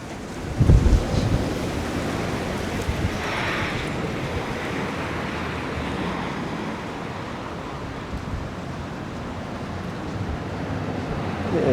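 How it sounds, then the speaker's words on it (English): Steady wind blowing hard across the microphone on a street in Toronto in November, a constant rushing roar with a brief louder buffet near the start. "It is windy."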